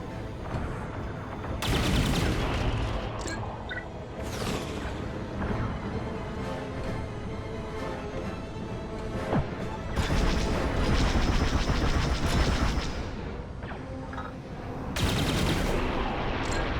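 Starfighter blaster fire and explosions in Star Wars: Squadrons, dense bursts of rapid shots and booms coming in several loud waves over a constant rumble of combat.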